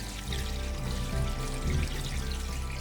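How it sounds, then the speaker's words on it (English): Water pours and trickles steadily over rice being rinsed for Korean makgeolli rice wine, a soft continuous stream heard close with no voices. "the water is running pretty clear"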